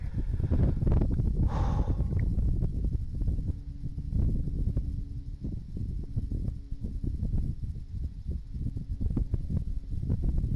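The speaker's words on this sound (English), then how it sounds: "Oh, big puff of wind there." A gust of wind buffets the microphone outdoors at a rifle range, a loud rumbling low roar that swells and eases unevenly throughout, with a brief breathy hiss near the start.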